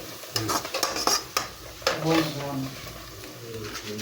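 Onions frying in a pot and stirred with a utensil while cooking a spinach-and-potato dish, giving close scraping strokes and clinks over a soft sizzle, with a voice talking in the background.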